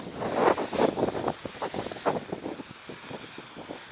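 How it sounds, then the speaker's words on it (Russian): Wind blowing across a seaside beach, gusting and buffeting the microphone in loud rough bursts that ease off toward the end, with no voices. "Ветер может сейчас задувать."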